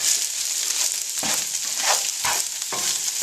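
Canned salmon scramble frying and browning in a pan, a steady close sizzle with intermittent scraping stirs as the mixture is moved around.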